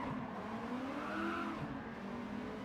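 Simulated car exhaust in Gran Turismo 7 during a race lap, a continuous raspy engine drone with a rising and falling pitch sweep, steady and fairly loud with no speech over it.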